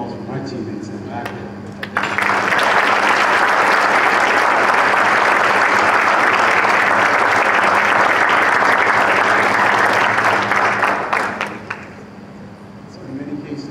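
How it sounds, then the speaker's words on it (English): An audience bursts into loud, dense applause at a United States Marine Corps ceremony. It starts suddenly, holds steady for about ten seconds, then tapers off, with a little background noise before and after. "Ladies and gentlemen, please round of applause for my teammates in the back"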